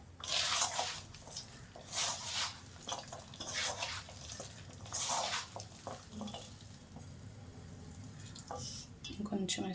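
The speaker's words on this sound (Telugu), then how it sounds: "కొంచెం వాటర్ వేసుకుంటూ కలుపుకోవాలి." Pakodi batter of chopped ivy gourd being mixed by hand as water is added a little at a time, giving wet squishing and dripping sounds at close range that come in repeated bursts, with a steady low background hum throughout.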